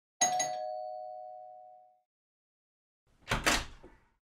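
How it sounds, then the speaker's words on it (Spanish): An audiobook sound effect in which a front door is heard: a clear chime rings and fades, then after a short silence comes a brief, fuller knock-and-rattle of the door opening. "Unos momentos después de que el sonido de la puerta principal abriéndose llegara a los oídos tensos de Blanche, Gerald apareció en la sala de estar."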